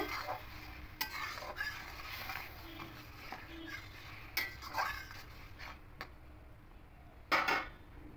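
Jackfruit seed dal being stirred in a pot with salt and chopped coriander, a quiet scraping and clinking of the spoon against metal with a few sharper knocks, faint sizzling underneath, no talking.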